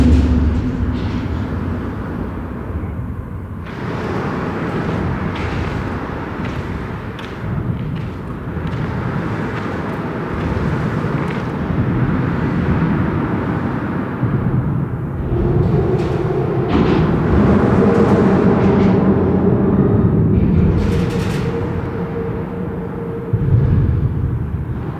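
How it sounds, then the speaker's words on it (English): Steady traffic rumble on a bridge high above a deep gorge at Twin Falls, Idaho, heard from underneath as a continuous low drone with passing surges, loud and unbroken throughout. "You can hear the traffic above us."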